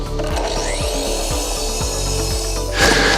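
A saw cuts a timber deck-foundation stump square, loud and close, with a steady rhythm of back-and-forth strokes rasping through the wood.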